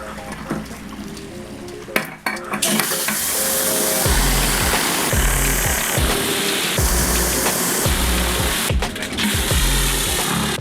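A pressure washer surface cleaner on a pool deck gives a loud, steady hiss with rhythmic scraping and knocking pulses as the spinning head sweeps back and forth, after a brief quieter start.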